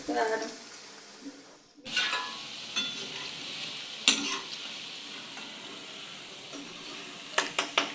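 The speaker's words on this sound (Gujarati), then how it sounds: "મસ્તીની આપણી ચિપ્સ તળાઈને તૈયાર થઈ ગઈ છે" Close, steady sizzle of chips frying in oil, with a few sharp clinks and scrapes of a utensil against the pan.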